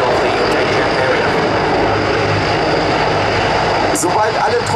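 CH-53 transport helicopters leave the area at low level during a special forces demonstration at ILA 2018, a loud continuous engine and rotor roar filling the whole stretch with no clear voices.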